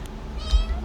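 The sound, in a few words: cat meowing in a video game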